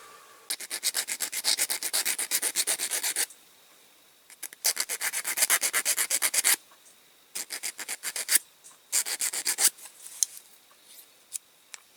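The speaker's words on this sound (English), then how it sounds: "I'll just file that thin bit of the axle off." A metal file rasps back and forth on the axle of a Dinky Leyland 384 toy tractor in fast, loud, close bursts of rhythmic strokes separated by brief pauses, with no talking.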